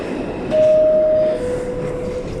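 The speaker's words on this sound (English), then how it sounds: "this is a Bowling Green Bound 6 local train" A New York subway 6 local train rumbles and rattles along the tracks at steady volume, with a thin tone sounding briefly partway through.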